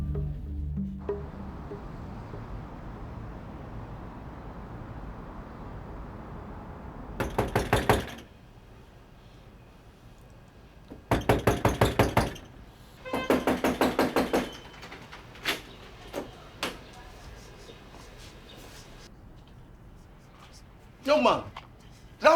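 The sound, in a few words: knocking on a front door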